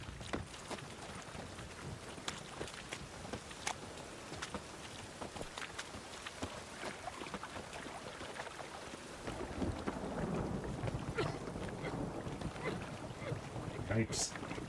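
Continuous rain patters over scattered crackles and low rumbles of thunder, growing heavier partway through; a soundscape from the video game The Witcher 3 with muffled voices underneath.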